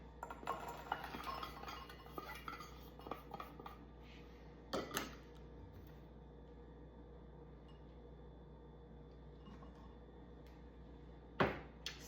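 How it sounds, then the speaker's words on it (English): Dried cranberries, an egg, half-and-half and orange juice go into a bowl: faint clinks and a few louder knocks of containers against the dish, isolated and close, over a low steady room hum. "We're going to combine all of these into a bowl."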